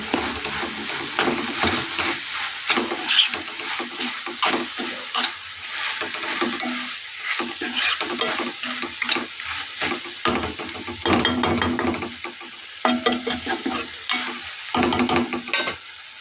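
Okra and tomato fry in a pan with a steady sizzle, broken up by repeated scraping and stirring strokes throughout; no one speaks.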